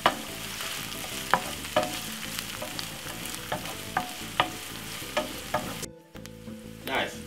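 Quorn meat-free mince and vegetables sizzle in a hot pan while being stirred, with a steady fry under repeated clinks and scrapes of the spoon.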